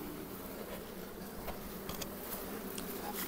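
Dense, steady buzzing of many bees at a beehive on a cold early morning after the hive has been shaken, a continuous close swarm drone with no talking.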